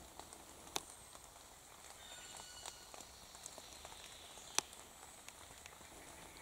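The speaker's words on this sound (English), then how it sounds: "Now it is raining," Rain falls outdoors over ground where earthstar fungi grow, a faint steady patter with scattered sharper drips and a few louder drops standing out, heard alone.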